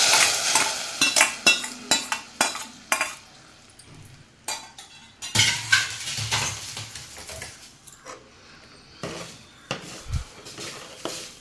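Fried mustard seeds are stirred into onion sambar, with a spoon scraping and clattering against the pot in bursts and pauses over a soft sizzle.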